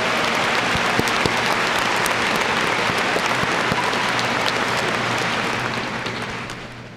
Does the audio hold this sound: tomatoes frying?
no